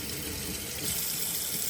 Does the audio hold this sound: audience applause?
no